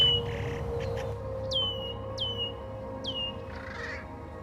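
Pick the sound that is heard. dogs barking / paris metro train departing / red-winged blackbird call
red-winged blackbird call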